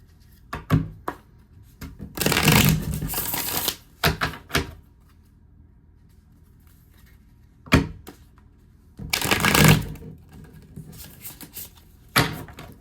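A deck of tarot cards is shuffled in several quick, rustling riffle bursts, each a second or two long, separated by pauses with soft taps and thumps, close up and without speech.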